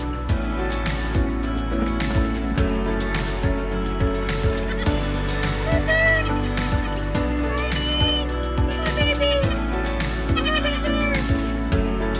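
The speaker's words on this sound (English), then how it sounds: "Hello, Daisy Goat" Repeated bleating calls from goats mixed with clucking fowl, overlapping in a busy barnyard, with a steady low hum underneath.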